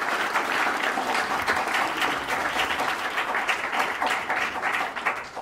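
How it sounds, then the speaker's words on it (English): An audience at a live club house comedy and debate event gives a sustained, dense round of applause that holds steady for several seconds, with faint voices mixed underneath. "Everyone give him a massive round of applause."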